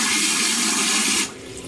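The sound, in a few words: strong water spray from cloth diaper sprayer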